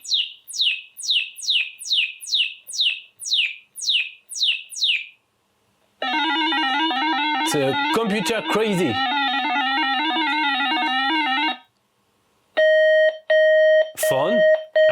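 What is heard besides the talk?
computer-generated telephone ringing sound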